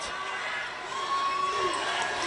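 A crowd at a high school girls basketball game between MSHS and Berea Community cheers after a big shot, a loud, steady roar of shouting and whooping with no pause.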